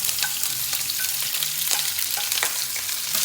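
Onions frying in olive oil in a hot pan, a steady close crackling sizzle with small spatters throughout and no one talking.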